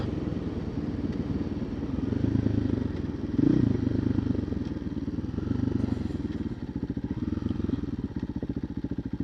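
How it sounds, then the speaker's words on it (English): A 2024 KTM EXC-F 500 TPI dirt bike fitted with an FMF muffler revs hard under throttle, a loud, close, rapid-firing single-cylinder bark that holds steady, with one brief surge partway through and nothing else heard. "Holding the throttle a little too much."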